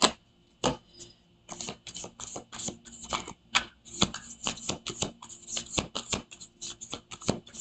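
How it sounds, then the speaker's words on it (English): Thick, cardboard-like cards are shuffled by hand in a fast run of crisp, irregular riffling clicks and flaps, close and alone with no talking. "I like this deck, but they're weird to shuffle."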